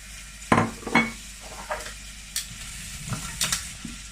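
Chopped onion with garlic frying in a pan, a steady sizzle under several sharp scrapes of the utensil stirring against the pan.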